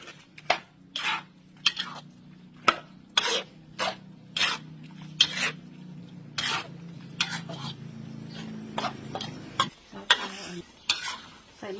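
Eggplant and beans stir-fried in a pan: a spatula scrapes and tosses in a steady rhythm of sharp, close strokes over a constant low sizzle, with no talking.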